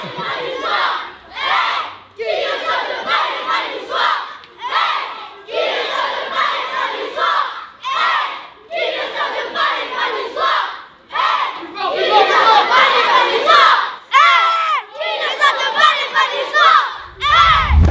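Nice football supporters shout and chant together outside the Allianz Riviera before the Nice versus Ajaccio match, a loud, dense crowd roar rising in repeated bursts of rhythmic chanting with brief pauses.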